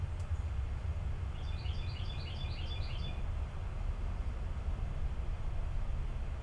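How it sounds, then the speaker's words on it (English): One faint burst of bird chirping outdoors, a quick run of repeated high notes over a steady low background hum. "Can hear the birds outside."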